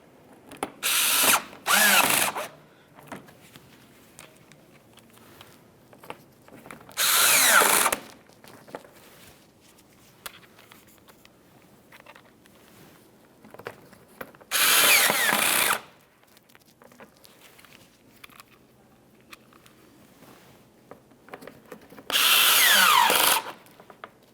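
A power drill drives Phillips head screws into the underside of a 2012-2018 Nissan Altima front bumper cover in four loud bursts of a second or so each. Quiet handling noises fill the gaps between bursts.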